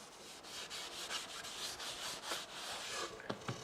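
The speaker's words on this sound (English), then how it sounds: "So what I'm doing here is getting the sanding dust off" A cloth soaked in denatured alcohol wiping sanding dust off a repaired wooden table top, soft rhythmic rubbing strokes, quiet and close, with a few small knocks near the end.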